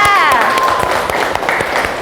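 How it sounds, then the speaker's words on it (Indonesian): An audience at a fashion class or presentation applauds, a loud, dense burst of clapping with some crowd noise and a voice over it. "tepuk tangan buat Mbak Ayara"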